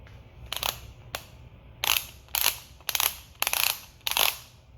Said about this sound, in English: Time to torque these bolts down.